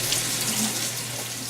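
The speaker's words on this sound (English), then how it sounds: "I'm actually going to rinse this with hot water to get most of this grease off." Hot water from a tap pours steadily through a sieve of sauteed meat, a close, even rushing stream with no talk.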